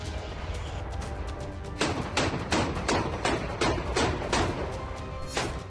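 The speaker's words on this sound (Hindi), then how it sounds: "यह आतिशबाजी नहीं है, बल्कि आसमान से बारूद बरस रहा है" Bombs falling on the ruined Azovstal steel plant in Mariupol, a rapid series of heavy, booming blasts and thuds, about a dozen in close succession, loud and alone.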